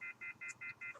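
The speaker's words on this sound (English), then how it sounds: "that thing beeping is annoying to me" An electronic device beeps indoors in a fast regular series of short, shrill, evenly spaced tones, about five in quick succession, faint and alone.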